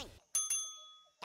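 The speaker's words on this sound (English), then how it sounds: "It's the bell." A bright bell chime from the Headbangers: Rhythm Royale rhythm game, struck twice in quick succession with sustained ringing overtones that decay slowly, alone after a brief voice.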